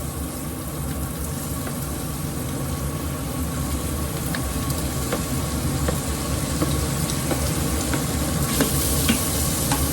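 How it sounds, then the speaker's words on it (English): Bacon and onion sauté in a pot for zuppa toscana, giving a steady, dense sizzle with faint scrapes of stirring throughout, close and continuous with no talk. "I will saute this bacon and onion for a couple of minutes"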